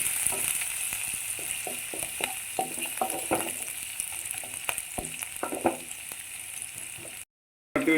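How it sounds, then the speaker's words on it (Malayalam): Green chilies for gobi manchurian sizzle steadily as they are sautéed in a pan, with soft stirring scrapes and clicks over a continuous frying hiss. "അതിൻ്റെ പച്ചമുളക് മാറുന്നിടം വരെ ഒന്ന് വഴറ്റുക."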